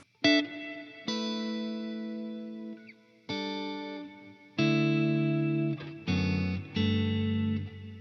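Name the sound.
guitar pedal reverb effect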